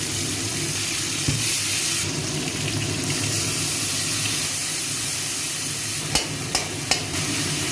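Bay leaf tempering in hot oil while cooking potol posto, a steady broadband sizzle with faint stirring, a few sharp crackles near the end and no talk.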